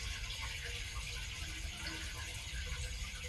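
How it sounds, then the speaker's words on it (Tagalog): Water inside the abandoned concrete Fort Drum island fortress in Manila Bay, a steady, echoing wash of running, trickling water that fills the space at a constant moderate level. "May tumutulong tubig doon."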